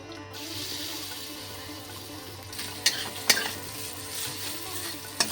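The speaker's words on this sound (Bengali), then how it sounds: "তেলেতে ডালটা একটু ভেজে নিচ্ছি।" Mashed soaked urad dal frying in hot oil with a pinch of asafoetida, a steady bubbling sizzle punctuated by a few sharp utensil clinks against the pan, with no speech.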